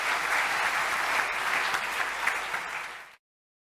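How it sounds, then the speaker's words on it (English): Audience applause fills a conference hall at a Python developer event, a dense, steady wash of many hands clapping that carries on evenly for about three seconds before stopping abruptly. "an applause"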